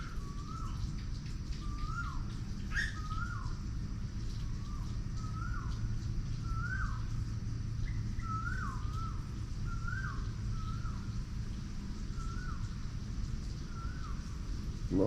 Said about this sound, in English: Love the sound of the birds in the morning.